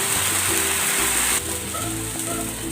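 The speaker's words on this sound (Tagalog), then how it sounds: "Ibubuhos ko na dito yung pinagbabara nitong chicken" Chicken marinade poured into a hot pan while cooking pan-style lechon manok, giving a loud continuous sizzle that drops in intensity halfway through and keeps bubbling.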